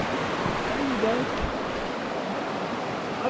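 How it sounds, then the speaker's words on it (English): White water flowing along a creek at South Mountains Park, a steady broadband rush holding even and close throughout with no pauses, while faint voices murmur briefly beneath the water. "There's some white water."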